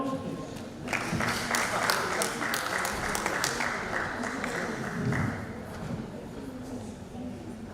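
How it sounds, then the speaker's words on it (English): An audience applauds at a press week award presentation, with sustained clapping that swells after the first second and then tapers off under a voice speaking over it. "A round of applause, please."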